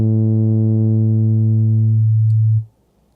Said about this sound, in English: We can hear how that sine wave is being modulated